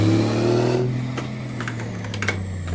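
A truck engine in the driving game American Truck Simulator drones at a steady pitch, then drops away as it shifts gear, followed by scattered clicks and taps while the motor hums on.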